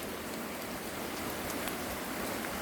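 Steady rain falls on a farm where cattle and chickens are kept, a dense, even hiss of drops on surfaces that carries on without pause and with no voices.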